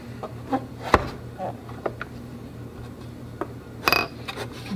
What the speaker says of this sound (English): We'll lift the lid off.